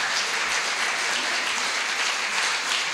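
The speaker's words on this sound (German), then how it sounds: "Ein Applaus für Pascal Dreckmann." Steady audience applause at an interactive bhajan and body percussion performance, a dense even wash of many hands clapping at moderate distance throughout, with no voices above it.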